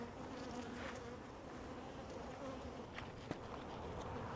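Honey bees buzz steadily around an opened hive, a soft continuous drone with a few brief louder passes of individual bees close by.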